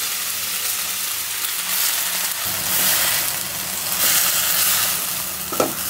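Onion, garlic, green chilli and leafy greens dropped together into hot oil in a pan, giving a steady close sizzle that swells partway through, with a sharp clink near the end.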